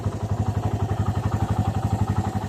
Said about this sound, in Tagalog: pinapainit natin ang ating motor